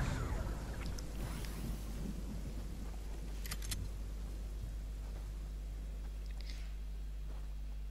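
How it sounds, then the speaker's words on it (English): A car engine in the Fortnite video game gives a steady, low droning rumble that runs the whole time, mixed with gusty wind noise and a few faint higher clicks. "I'm sure I heard a car."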